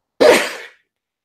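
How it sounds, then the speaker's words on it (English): A single sharp, close sneeze that bursts out and fades within half a second, followed by quiet. "Sneeze."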